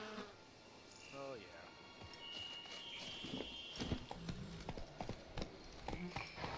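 Horse hooves clip-clop at a trot in The Witcher 3: Blood and Wine, the rhythmic thuds growing clearer over a bed of buzzing insects and ambient game sound.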